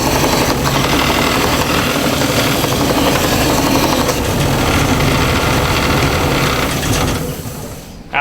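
A sander used for shaping outside curves runs steadily in a school shop, giving a loud, continuous mechanical whir that tapers off near the end.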